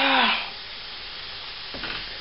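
Pieces of pigeon meat sizzling loudly in a frying pan as they are stirred, a bright hiss that swells at first, then settles into a steady softer crackle with a brief scrape near the end.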